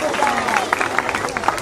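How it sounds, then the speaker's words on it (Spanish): Audience at a circus in Ituzaingó claps in a lively mix of individual hand claps over crowd babble, with a voice calling out over the applause. "¡Fuertísimo el aplauso para la gente de Posadas!"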